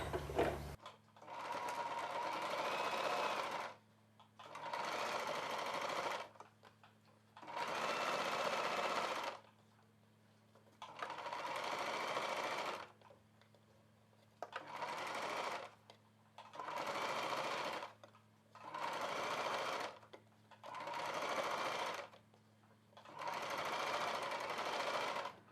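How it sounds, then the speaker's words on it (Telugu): A sewing machine stitches along blouse piping with invisible thread in steady bursts of a few seconds each, separated by short pauses, loud and close with no voices over it. "ఇప్పుడు నేనైతే ఒక కుట్టు వేసేస్తున్నాను పైన"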